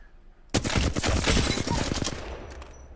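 A Flatline rifle in Apex Legends fires at practice targets in a loud, close, rapid automatic burst lasting under two seconds, then cuts off into a short fading tail, with no talking.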